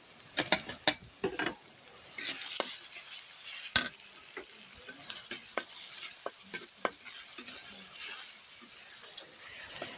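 Taro stolons and minced garlic fry in a pan under a steady close sizzle, while a spatula scrapes and clacks in irregular bursts of stirring.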